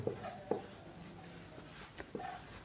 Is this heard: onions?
no